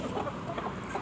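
A rooster clucks in a brief burst of close, busy fowl calls, fairly loud and alone without talk.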